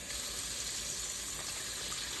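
Steady rushing water fills a bowl, a continuous close gushing and splashing with no voices.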